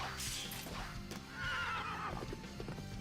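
A horse neighs loudly with a long whinny, followed by clip-clop hoofbeats, in the Sonic and the Black Knight video game.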